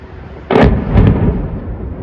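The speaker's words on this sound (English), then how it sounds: "Footage of the strikes and explosions is being posted online." One loud, close blast from a military strike hits suddenly and rolls into a rumbling boom, and a second burst follows within about a second.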